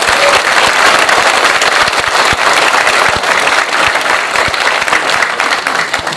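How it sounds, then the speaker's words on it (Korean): Audience at a memorial ceremony in the Seoul National Cemetery hall applauding in support of President Yoon, dense, loud, steady clapping from many hands that continues throughout. "우리 모두 이 자리에서 쌍수를 들어 윤 대통령에게 지지와 환영의 박수를 쳐야 한다고 보는데"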